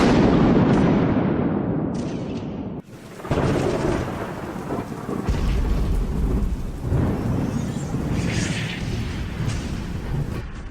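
Thunderstorm in a video game: a lightning strike unleashes heavy rolling thunder and pouring rain, a loud booming crack near the middle followed by sustained rumbling and downpour, with no voices.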